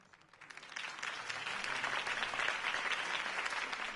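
A crowd applauds after a campaign speech for Harvey Dent in a film scene. The clapping swells in within half a second and then holds as a dense, steady roar of many hands.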